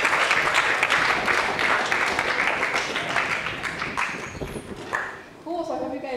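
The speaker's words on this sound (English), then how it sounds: "Give yourselves a round of applause." Applause from a lecture audience at a UCLA sustainable living class, crowded clapping that thins and fades toward the end as a voice begins speaking.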